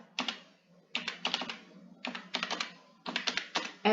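Bursts of computer keyboard typing while code is entered in a Python programming tutorial, close and moderately loud, coming in four quick clusters of rapid keystrokes separated by short pauses, with no voice over them.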